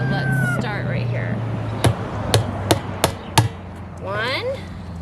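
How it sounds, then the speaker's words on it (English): A hammer drives rivets into the metal top and funnel barrel pieces of a Wildgame Innovations deer feeder, five sharp ringing strikes in a steady row, close and loud, with someone talking before and after. "take a hammer and hammer the rivets in to secure the top and funnel barrel pieces"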